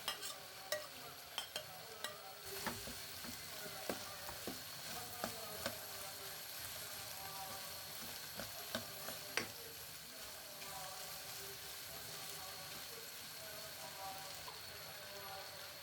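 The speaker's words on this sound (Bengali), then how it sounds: "আমার মাংস আর সসেস গুলো একটু আমি ফ্রাই করে নিচ্ছি।" Meat and sausages frying in a pan with ginger, garlic, onion, green chilli and potato: a faint steady hiss of frying broken by light, irregular clicks of stirring, mostly early on, heard from close by but quietly.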